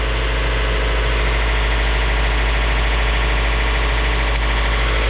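Yanmar 4JH3 marine diesel engine running steadily at about 1500 RPM while warming up to temperature, a loud, continuous close-up drone with strong low rumble and even mechanical clatter, no voices.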